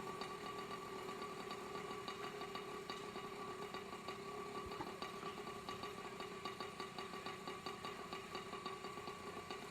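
A small 121cc two-stroke engine idles steadily with a fast, even, buzzy pulse and a faint knocking edge. It sounds fairly quiet and slightly distant, and nothing else is heard over roughly ten seconds.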